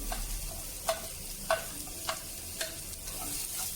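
Chopped onion and green chili sauté in a hot pan for bread upma, with a soft steady sizzle broken by a few sharp spatula scrapes and clicks against the pan at regular intervals, with no voices.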